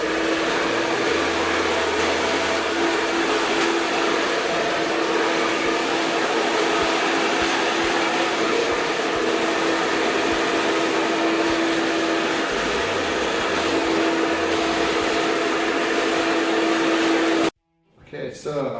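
Hair dryer blasting continuously during a salon blow dry, a loud, steady whooshing roar with a faint tonal whine that cuts off abruptly near the end; a stylist talks over it.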